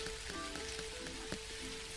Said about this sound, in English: So it started raining here.